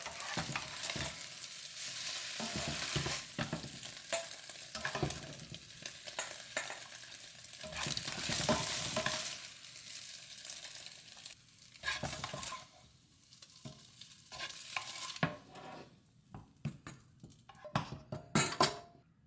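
Cooked eggs are scooped out of a hot pan while making Chinese shrimp and tomato with eggs, giving a steady loud sizzle and frying hiss broken by repeated scraping and stirring clatter of a utensil on the pan.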